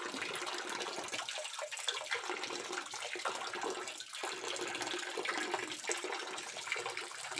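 Water running from a hose into a catfish tank outdoors, a steady splashing, gushing stream heard close and continuous.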